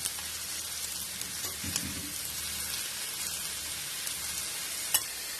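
Potato and bitter gourd pieces frying in hot oil, a soft, even sizzle with a brief thump of food landing in the pan and a single sharp click near the end.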